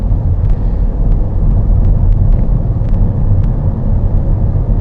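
A car pulls away and drives on in second gear past roadworks, its engine giving a steady, close, low rumble throughout with faint higher clicks.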